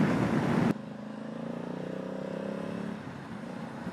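A Honda Africa Twin 1100 motorcycle engine drones steadily at highway cruising speed, with a loud burst of wind roar at the start that drops away, leaving a constant mid-level hum.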